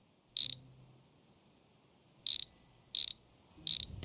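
Four sharp metallic ratcheting bursts from a wrench unbolting a part off a junkyard car, one alone and then three in quick succession, close and fairly loud, with quiet gaps between.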